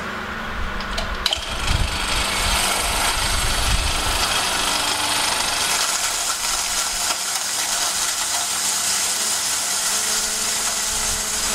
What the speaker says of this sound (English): One ceramic disc grinds against the other, so you get a very fine grind size.